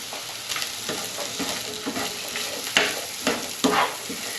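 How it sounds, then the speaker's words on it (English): Sliced peppers and onion fry in a pan, a continuous sizzle broken by several sharper scrapes and stirs that grow louder toward the end, close up with no speech. "the first job we need to do really is just fry off these peppers and this onion"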